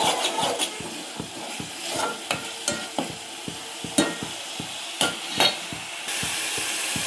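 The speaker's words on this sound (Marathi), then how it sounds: "आता हे फ्राय करून घेऊया। टोमॅटो छान फ्राय झाला की" Tomatoes frying in a pan for Maharashtrian amti, a steady sizzle broken by regular scraping stirs of a spoon against the pan, close and moderately loud, about twenty strokes with no talking.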